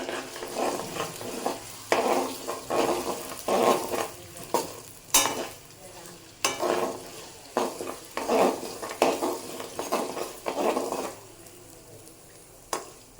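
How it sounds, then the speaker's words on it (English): A spoon stirs chicken biryani in a pan over a low flame, a series of scraping, rhythmic sweeps with soft sizzling between them, close and fairly quiet, with no talking. "Gonna give this a nice mix, let it warm up a bit"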